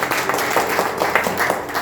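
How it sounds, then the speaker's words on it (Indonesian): Church congregation clapping together during a Sunday worship service, a dense, steady patter of many hands sustained for a couple of seconds at a fairly loud level. "Beri tepuk tangan dulu buat Tuhan Yesus."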